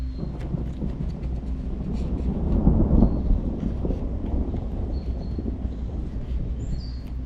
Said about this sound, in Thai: เสียงฟ้าร้องที่นี่มันไม่เสียงดังมาก มันไม่เหมือนฟ้าร้องฟ้าผ่าแบบบ้านเรา